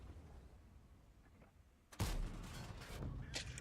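Tank cannon shot in World of Tanks, a single sudden heavy boom partway through followed by a lingering rumble and distant crackle of battle.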